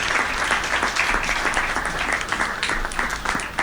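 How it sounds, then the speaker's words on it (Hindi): Dense, steady audience applause fills a Hindi comic poetry gathering at an all-India kavi sammelan, many hands clapping loudly and continuously without a break. "एक बार जोरदार तालियों के बीच शिवम आजाद"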